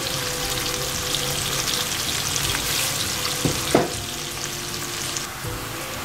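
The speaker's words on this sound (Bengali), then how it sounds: "পেঁয়াজটা ভাজা হয়ে গেছে" Onions fry with salt in a pan, giving a loud, steady sizzle close by, broken by a couple of brief stirring scrapes partway through. No voices are heard.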